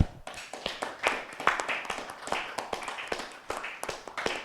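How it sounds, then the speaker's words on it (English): Scattered hand claps from a small audience at a music discussion event, uneven and sparse rather than a full ovation, with distinct individual claps standing out against each other. "let's give us all a round of applause"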